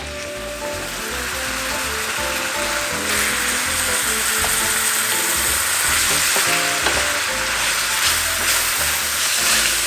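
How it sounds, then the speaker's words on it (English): Cooked pork sausage browning in a pan, a loud, dense sizzle with steady crackling and occasional scraping as it is stirred, no voices. "Let me go ahead and brown this."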